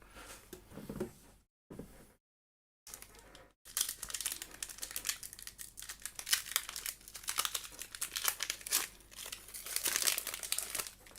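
Foil Pokémon TCG booster pack wrappers from a Sword and Shield era Galar V tin set crinkle and tear open, with a brief pause and then steady, close, dense rustling that continues to the end.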